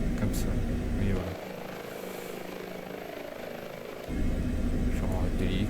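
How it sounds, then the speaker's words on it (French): Simulated helicopter turbine whine and rotor drone at Schirmeck in Microsoft Flight Simulator 2020, loud at first, dropping sharply to a lower idle hum for several seconds, then surging back to full volume. "Je vais arrêter l'hélico, hein, de toute façon il était à l'arrêt."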